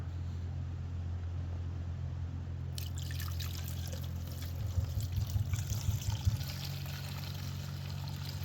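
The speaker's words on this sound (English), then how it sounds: "Now let's pour it straight into here." Fuel splashes and trickles through a portable fuel filter funnel after a few seconds of steady low hum, with the pour growing into an uneven gurgle.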